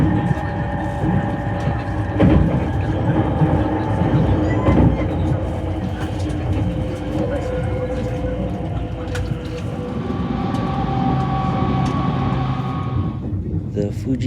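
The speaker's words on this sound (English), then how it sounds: "We took the Fuji excursion train." Steady interior rumble of the Fuji Excursion limited express train running between Tokyo Station and Fuji Kawaguchi, a continuous low drone with faint rail clicks and a voice talking over part of it.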